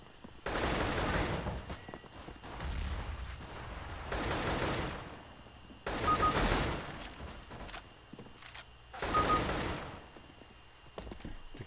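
Bursts of gunfire from the video game CS:GO, four loud volleys of rapid shots, each lasting about a second or two, separated by short quiet gaps.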